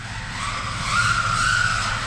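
An SG1608 Pro RC car drifts through a whole corner, its motor whining steadily while a thin tire squeal rises and holds through the middle of the slide, close and continuous.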